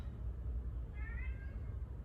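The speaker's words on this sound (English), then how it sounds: "my cat says hi" A cat gives a single short meow at middle distance over a low steady room hum.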